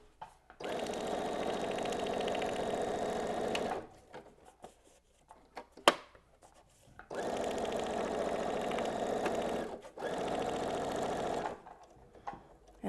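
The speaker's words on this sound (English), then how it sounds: "I'm just going to take a few more stitches over my first ones to make sure it's all in place" A sewing machine stitches a trifold Kraft-tex wallet in two fast, steady runs of about three seconds each, separated by a quiet pause with a single sharp click.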